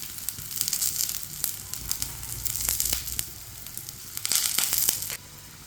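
An aloo paratha cooks in oil on a flat pan with a crackling sizzle that swells and fades in waves, sharp pops and clicks scattered through, and no talking.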